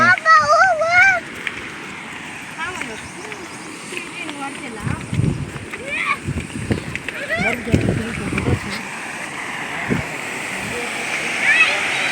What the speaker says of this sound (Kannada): ಇದೇ ನೋಡ್ರಿ ನಮ್ಮ ಮುಚ್ಚಗಂಡಿ ಫಾಲ್ಸ್